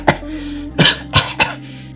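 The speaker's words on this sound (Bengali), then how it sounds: "কাশতে আরম্ভ করে দিই।" A narrator in a Bengali audiobook of Manik Bandyopadhyay's story coughs after lighting a cigar in the dark, one short cough followed by three hard, close bursts spaced about half a second apart, with no talk.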